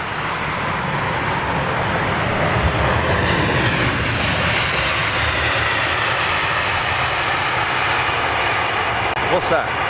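A Dreamliner airliner arriving at London Heathrow gives off a loud, sustained jet engine roar that swells gradually, with a voice talking faintly underneath.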